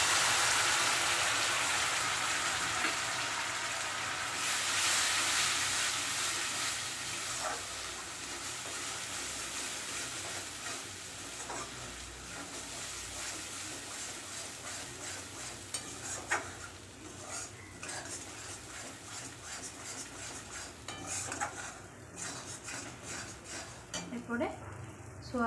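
A soybean and potato curry cooks in oil as cashew and poppy seed paste is added, giving a continuous close sizzle with scraping and stirring sounds throughout.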